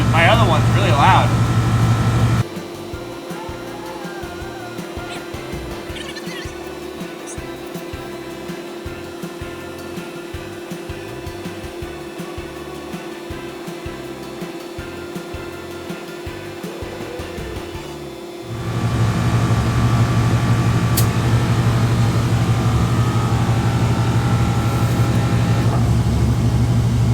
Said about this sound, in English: Like I can barely hear the compressor over the engine